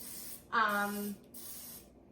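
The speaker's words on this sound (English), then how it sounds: "you just pump it up, and you're gonna spray them." A pump sprayer mists green tomatoes for air frying, a close, sharp hissing burst of about half a second beside a brief tonal squeak, followed by quieter spray noise.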